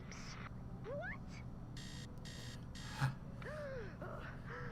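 An electronic alarm goes off in Fortnite Save the World, with short buzzy beep bursts sounding in a repeated pattern among other chirping game effects and a brief thump.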